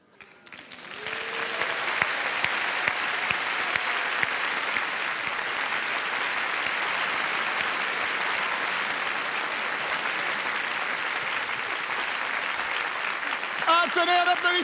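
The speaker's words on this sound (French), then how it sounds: "Un tonnerre d'applaudissements." A large audience breaks into thunderous applause that swells quickly and holds steady for a long stretch, with a voice rising over it near the end.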